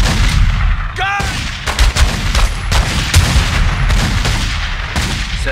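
Sustained gunfire rattles through a shootout in The Godfather II on PC, dense loud shots and booms layered over each other throughout, with a brief whistling sound near the start.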